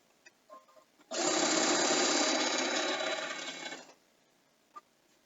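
A sewing machine stitches a quilt, running in one steady, loud burst of about three seconds, with a few faint clicks before and after.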